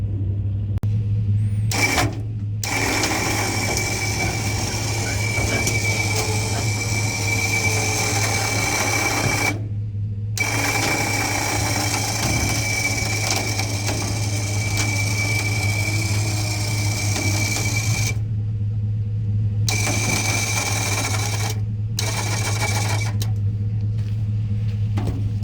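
A winch pulls an abandoned 1970 Oldsmobile Toronado, its steady motor whine and low hum running continuously and loud for most of the stretch, broken by a few brief pauses where the drone cuts out.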